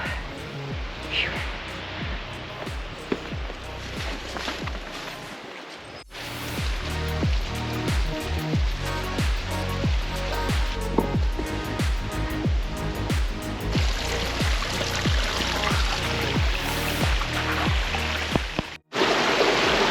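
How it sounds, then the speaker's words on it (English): A waterfall beside a steep mountain hiking trail rushes in a continuous broadband roar, close and steady, with heavy footsteps and brief handling noises over it and faint breathing. "beautiful waterfall"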